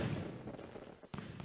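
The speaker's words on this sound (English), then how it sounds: "Beautiful fireworks." Fireworks going off in the video game Super Mario 3D World, a dense, continuous run of crackling bursts and low booms that fills the short stretch, with a brief dip before the popping resumes.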